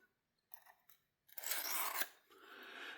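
Rasping knife-sharpening strokes on a Work Sharp field sharpener: a couple of short quiet scrapes, then a louder sustained grinding pass and a softer follow-up stroke, close and alone.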